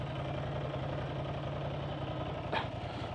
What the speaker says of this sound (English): clutch rattle